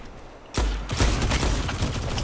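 Hand cannon gunfire in the video game Dead Messenger, a sudden loud blast followed by further heavy, rolling shot noise that continues densely to the end.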